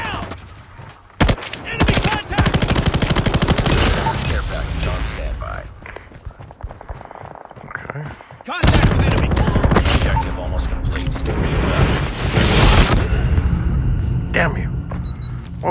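Call of Duty Mobile gunfire rattles in loud automatic bursts, a long volley followed by a pause and then more rapid fire, with footsteps and a player's voice speaking in places.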